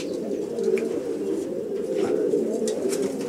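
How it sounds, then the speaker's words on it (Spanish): Pigeons coo steadily and closely inside a loft, their soft throaty calls overlapping in a continuous low murmur. "Estas palomas son las que vengo robando."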